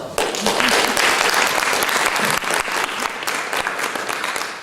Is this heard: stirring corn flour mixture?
no